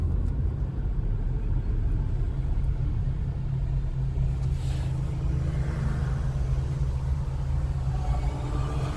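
Volkswagen MK7 Golf Sportwagen fitted with a Unitronic intercooler and intake, driving around town, gives a steady low engine and road rumble heard from inside the cabin, with no talking.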